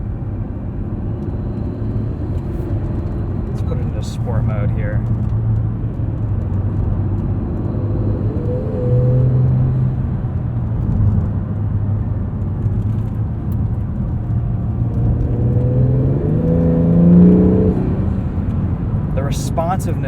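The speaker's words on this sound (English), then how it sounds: "you can hear those 2 turbos spooling up behind you" A 2020 Acura NSX's twin-turbo hybrid engine drones and rumbles from inside the cabin, swelling toward the end as it accelerates, under near-continuous talk from the driver.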